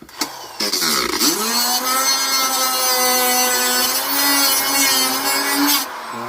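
A Dremel rotary tool cuts into the air cleaner of a Yamaha Virago motorcycle, giving a high, steady whine and grinding rasp up close that slows briefly at the start and then holds until it winds down.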